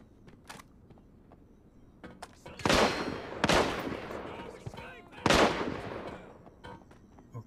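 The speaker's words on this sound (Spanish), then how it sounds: "ahí me están disparando" Gunfire in the mobile shooter Arena Breakout (Tarkov Mobile): a few sharp, loud shots with some fainter pops in between, irregularly spaced over low background rumble.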